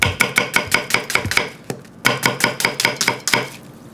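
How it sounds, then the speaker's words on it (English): A knife chopping onions in rapid, even strokes on a board, a fast run of sharp knocks, a brief pause, then another steady burst, loud and close with no talking. "How long it'll take me to cut all these onions?"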